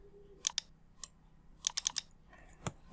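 Keystrokes on a computer keyboard as a title is typed into Canva, coming in short clustered bursts of sharp, close clicks with brief pauses between them and no voices.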